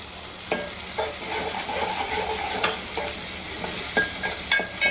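Fish cooks with tomato and green masala in a pan, sizzling steadily while a spatula stirs and scrapes against the pan in several distinct strokes, close by and with no voices.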